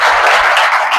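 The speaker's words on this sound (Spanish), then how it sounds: "Denle un aplauso al Señor y a su palabra." A church congregation bursts into loud, dense applause, a close, continuous wash of many hands clapping for the whole short stretch.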